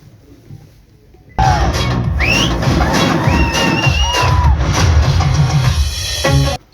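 A large crowd at a film trailer launch event bursts into loud cheering, shouting and whistling with applause, starting abruptly and holding steady for several seconds before cutting off.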